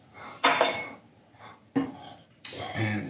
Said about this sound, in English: So now what we do is we stir in our butter that we have had sitting aside for quite a while